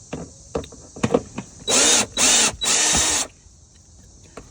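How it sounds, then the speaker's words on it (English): A power tool whirs in three short bursts, close and loud, backing out mud flap screws on the front passenger side of a 2023 Hyundai Elantra Hybrid, after a few light clicks of handling. "So first I'm going to simply remove these 2"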